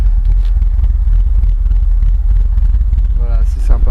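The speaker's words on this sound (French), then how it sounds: "Je vais vous faire écouter le son au ralenti, très rauque." A BMW Z3 M Coupé with a 3.2-litre engine idling with a raspy note, a loud deep rumble held steady throughout, with a brief voice near the end.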